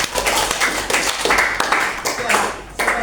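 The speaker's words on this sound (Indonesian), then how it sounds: "Oke, tepuk tangan." A classroom full of students claps after a math lesson, a run of quick, uneven hand claps, fairly close and bright, with a voice speaking briefly among them.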